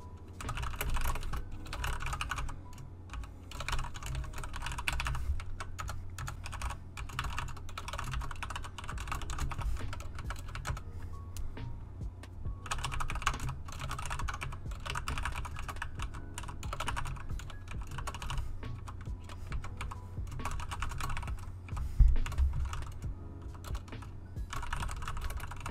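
Steady, fast typing on a computer keyboard while writing a Roblox Studio script, close and continuous clicking of keys with brief pauses, no voices.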